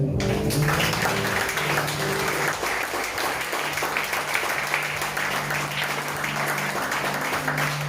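A church congregation breaks into sustained applause during a French-language worship service, a dense, steady wash of clapping filling the whole stretch, with a voice briefly audible early on.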